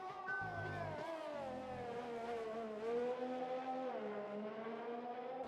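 Race cars on track in an RSF1 league sim racing game: a steady, sustained engine whine with shifting pitch as a car works through a long right-hander, heard alone.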